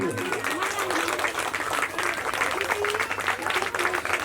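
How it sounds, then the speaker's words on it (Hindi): Audience applause at a Hindi-language performance event: steady crowd clapping throughout, moderately close, with a voice speaking over it. "जोरदार तालियां इनके लिए।"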